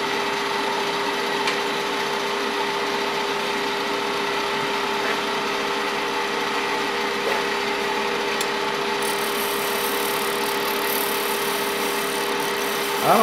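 Lathe shear scraping a turned wooden pocket mirror: a continuous steady rasping hiss over an even motor hum, close and unbroken, with no voices.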